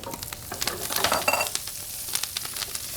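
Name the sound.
halved Brussels sprouts sizzling in a frying pan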